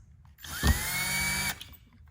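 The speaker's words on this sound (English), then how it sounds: "I'm going to go ahead and pre-drill some holes" A power drill spins up with a rising whine, runs steadily for about a second, then stops abruptly, with a brief thump as it starts.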